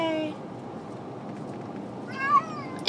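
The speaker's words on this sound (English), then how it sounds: "Poor Mama Kitty" A mother cat meows at the start and again near the end while being taken to the vet, with faint sounds in between and the meows fairly close.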